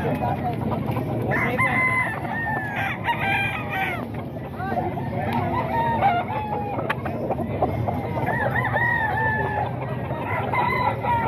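SBR gamefowl roosters crow repeatedly at close range, with clucking between calls and several birds overlapping, set against a busy background of murmuring voices at a market.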